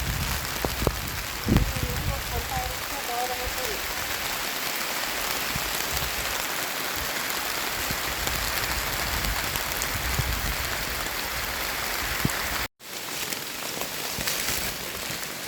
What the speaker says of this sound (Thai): ตกจริงจังมากครับ